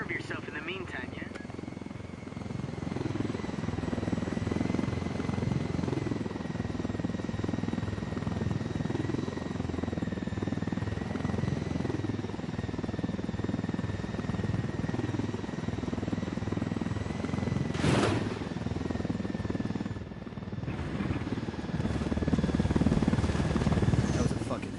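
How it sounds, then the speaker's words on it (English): A stolen helicopter flies in a PlayStation 4 game, its rotor drone steady and loud for the whole stretch with a brief sharp burst near the end, while a voice talks over it. "Nothing like swiping a helicopter to bring a day into focus"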